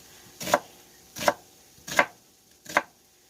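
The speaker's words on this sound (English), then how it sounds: "this is just a medium onion. I'm just chopping it up, not into real small pieces, just about half-inch pieces" A knife chops through a medium onion on a cutting board in four evenly spaced, close, crisp thuds, with quiet pauses between the cuts.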